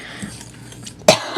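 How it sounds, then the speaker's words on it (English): A single sharp cough bursts out near the end, close and loud, from someone breathing in fine bath bomb powder while mixing it. Quiet room noise precedes it, with a faint clink just after. "Be careful breathing this stuff in,"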